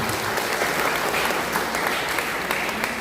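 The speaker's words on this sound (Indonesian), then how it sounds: "Tepuk tangan ke 610" Thick, continuous applause fills the room at a Christmas celebration in a church congregation, steady and loud from start to finish.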